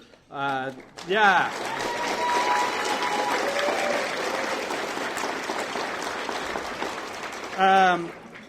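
Sustained applause from a banquet audience at a gaming convention, a dense wash of clapping that lasts several seconds, framed by a voice speaking briefly at the start and the end.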